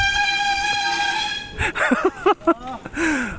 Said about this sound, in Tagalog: Lakas sa busina.